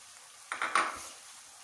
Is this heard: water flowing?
no